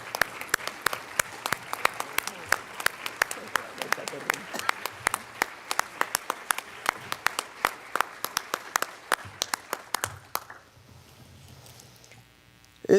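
An audience at the 2023 AGM opening ceremonies applauds as members stand, with dense, steady clapping for about ten seconds before it stops and leaves a quiet room.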